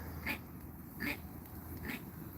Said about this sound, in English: That's the first time I've heard him cough